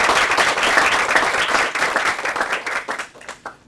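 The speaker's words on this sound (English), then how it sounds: "Let's give him a round of applause" Warm applause from an afternoon poetry reading audience, a dense, loud wash of clapping that holds steady then thins into scattered individual claps as it fades near the end.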